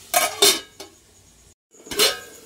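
Metal lid being set onto a cooking pot for a boiled egg and onion curry, a few close clattering clinks, a brief silent gap, then another ringing clank.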